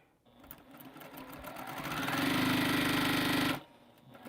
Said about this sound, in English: we're just going to sew this together